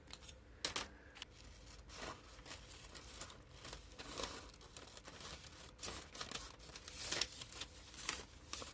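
Scissors snipping through decoupage paper, quiet crisp cuts and light crinkling rustles spaced irregularly, close and faint with no talking.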